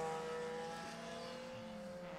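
A race car at the Northwest Grand Prix road course holds a steady engine drone with a sustained whining tone, heard at moderate level without speech.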